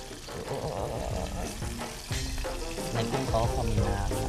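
Battered food fries in boiling oil, a dense crackling sizzle that swells as pieces go into the pot, with stirring noises and someone talking over it.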